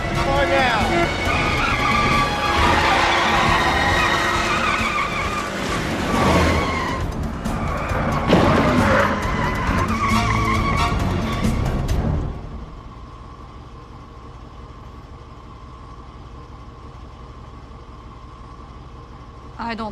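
Car skidding with loud tire squeals in a 1995 mystery movie scene, mixed with engine noise and urgent talk for about twelve seconds before cutting to a quiet background.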